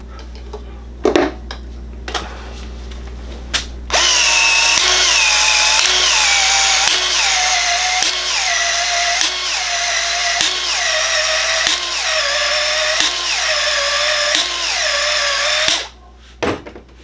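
An 18-volt Congo battery expansion tool, used to expand 1-inch pipe ends, whirs loudly and steadily for about twelve seconds, its pitch dipping in a regular cycle of pulses as it works, after a few faint clicks of handling.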